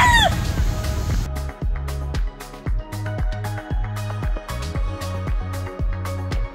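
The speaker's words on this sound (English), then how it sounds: "and I saw a rooster too." A rooster on Ko Phi Phi Don island in Thailand lets out a long crow near the start, then keeps up a steady run of sharp, rhythmic clucks, close and loud, with no voices.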